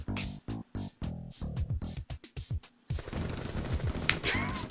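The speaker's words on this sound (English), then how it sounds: "That's Pigus setting off fireworks" Fireworks set off in a video game crackle in rapid bursts of sharp pops, first as spaced staccato volleys, then as a denser continuous crackle, with speech mixed in.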